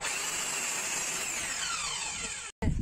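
A miter saw cuts through a piece of old, recycled wood: a loud, close motor whine holds steady, its pitch slowly sinking as the blade bites, then cuts off abruptly before a brief thump.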